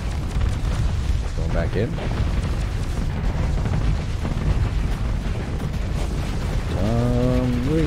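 Heavy space-battle explosions in Starsector with the Nexerelin mod, a continuous booming rumble of missile impacts and blasts throughout, with a person talking over it.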